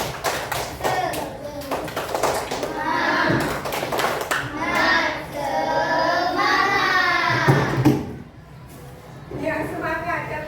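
A group claps in a patterned rhythm while voices chant along, the claps sharp and close under the children's voices.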